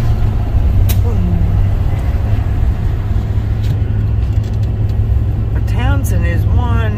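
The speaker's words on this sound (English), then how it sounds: "there goes the pink Jeep tours" Pink Jeep tour vehicles pass along a busy street in Townsend, Tennessee, near the Great Smoky Mountains, their engines a loud, steady rumble heard up close with people talking over them.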